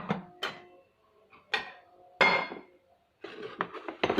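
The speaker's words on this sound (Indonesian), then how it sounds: "kita akan mengocok telur" Eggs being beaten in a bowl: a handful of separate clinks and taps of utensil against the bowl, close and sparse with pauses, ending in a faster run of scraping strokes, no talk.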